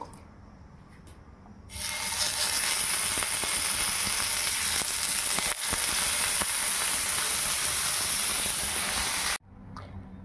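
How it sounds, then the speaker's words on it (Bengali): Fish head dropped into hot mustard oil, a sudden loud burst of dense frying hiss that holds steady for several seconds close up, then cuts off sharply, leaving a quieter background sizzle. "এইবার মাছের মাথাটা আমরা ভালো করে কুরকুরে করে ভেজে তুলে রেখেছি।"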